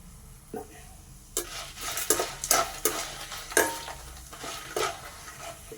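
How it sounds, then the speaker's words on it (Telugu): Dried red chillies, coriander seeds and urad dal fry in oil, with a soft sizzle and a cluster of spoon scrapes and clatters against the pan in the middle, close and fairly quiet. "వన్ టేబుల్ స్పూన్ మినపప్పు వేసుకుందాం వేసుకొని మంచిగా ఫ్రై చేసుకుందాం"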